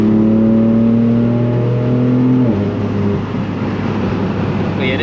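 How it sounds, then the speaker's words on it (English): A tuned BMW M4 idles loudly with a steady low drone, its pitch dropping midway as it settles into a rougher, burbling exhaust rumble close by. "You wanna hear the burbles a little bit"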